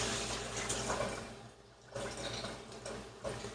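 Water poured over sprouts to rinse them, a close, gurgling, sloshing stream with a brief pause in the middle before the flow resumes.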